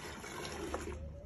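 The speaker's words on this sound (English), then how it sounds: "you're then just gonna pour water into it." Water poured into soil in a bucket to mix it for compressed earth bricks, a steady close trickle and splash running throughout, with no talk.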